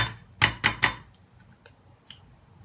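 Three sharp, closely spaced cracks of an egg being broken against a bowl for a seasoned chicken mixture, close and loud, followed by a few faint taps and small clinks, no talking.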